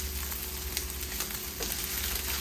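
Shrimp fry in a hot pan for quick shrimp fried rice, a dense, steady sizzle that fills the whole moment with faint stirring crackles and no voices.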